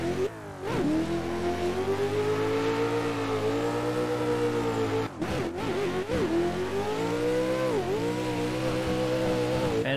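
A Nissan 400Z drift competition car's engine revs hard and close, a loud continuous rising and falling roar with a brief cut around the midpoint before it surges again.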